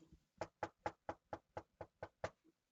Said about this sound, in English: Yeah, it sounds like someone's at the front door.